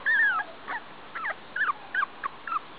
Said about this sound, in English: they're all kind of whimpering off and on.